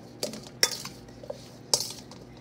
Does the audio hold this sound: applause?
no